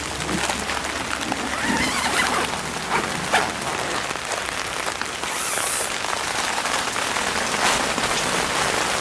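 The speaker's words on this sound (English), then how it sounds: "it is now raining, so let's take a look at how the tent's doing" Steady rain patters on a taut Coleman Sundome tent close by, a dense, even hiss with scattered louder drops throughout.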